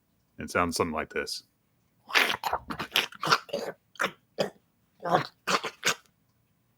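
A voice imitates a big lizard creature chewing and gnawing on an arm bone: a brief spoken phrase, then a run of crunchy, wet mouth bursts in an uneven rhythm, close up.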